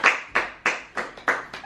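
Several people clapping in slow, deliberate unison, about six distinct loud claps spaced roughly a third of a second apart, close and dry with nothing else underneath.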